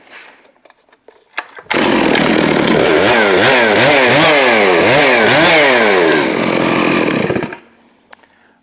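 A Neotec 892 Stihl-clone chainsaw fires up after a few faint clicks and runs loud and close for about six seconds, its engine note rising and falling in repeated revving surges before cutting off abruptly to quiet.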